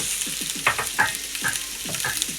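Vegetable curry with curry sauce and broccoli stirred in a pan, a close, repeated scraping and sloshing of a utensil against the pan in an uneven rhythm over a low simmer.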